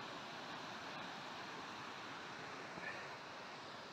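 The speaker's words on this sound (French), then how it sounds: "Très belle cascade." A mountain waterfall near Lac d'Ourrec in the Pyrenees gives a steady, faint, broadband rush of falling water, constant and unbroken with no other sounds.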